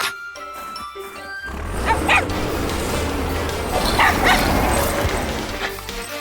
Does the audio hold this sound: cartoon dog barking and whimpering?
yes